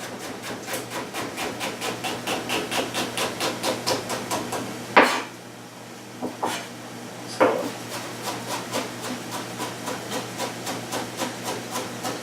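Garlic sliced and chopped with a knife on a board at home: a fast, steady run of crisp blade taps, loud and close, with a brief pause broken by a few heavier knocks.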